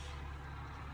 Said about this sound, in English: It is about listening to dump trucks right outside my window.